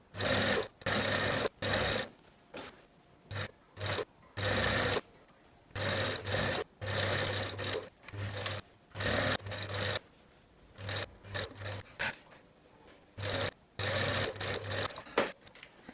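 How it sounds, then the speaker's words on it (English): Sewing machine stitching three seams of a garment at 1 cm seam allowance, close and fairly quiet, running in repeated bursts of rapid whirring separated by short pauses. "So we're gonna sew with 1 centimeter seam allowance on these 3 seams"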